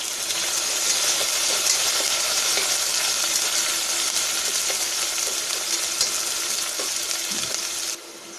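Chopped onions with a pinch of salt sizzle steadily in a hot pan as they are stirred toward brown. The loud, even frying hiss carries on unbroken, then drops away abruptly near the end.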